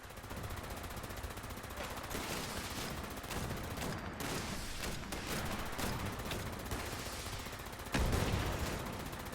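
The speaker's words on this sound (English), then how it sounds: "Oh, no, he's using the Gatling." Gatling gun fire in the Fallout 76 video game, a dense, sustained stream of loud game gunfire and explosive blasts running through the whole stretch, with a sharper burst near the end.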